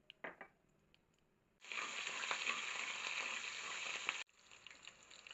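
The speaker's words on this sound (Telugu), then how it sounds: "ఇందులో శనగపప్పు, మినపప్పు, ఆవాలు, జీలకర్ర వేసుకుని ఫ్రై చేసుకో" Chana dal, urad dal, mustard seeds and cumin fry in three tablespoons of hot oil for a mixed vegetable curry: a few light clicks, then a loud, steady sizzle that bursts in and runs for about three seconds before dropping back to faint crackles.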